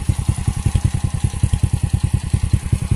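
A modified Honda Supra Fit motorcycle runs on its original exhaust, cut a little shorter, and idles with a fast, even putter of regular pulses, close and steady with nothing else over it.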